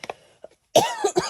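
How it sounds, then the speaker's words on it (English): A woman gives a few soft throat sounds, then a burst of harsh, close coughs over about half a second. "I'm going to apologize once for coughing"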